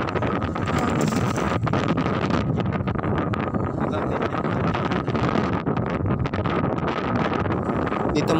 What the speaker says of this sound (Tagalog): Dito mga paps, napakalakas ng hangin.